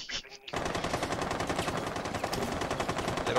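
A light machine gun fires in a video game after a brief quiet moment, then rattles in one long, loud, continuous rapid burst of shots that fills the rest of the clip.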